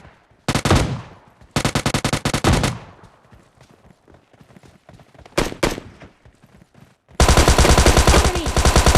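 S12K shotgun fire in PUBG Mobile Lite on a snow map, heard as loud, close bursts of rapid shots separated by quieter gaps, ending in a sustained volley.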